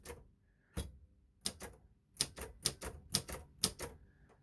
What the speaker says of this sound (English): Here I am, I'm just going to type in,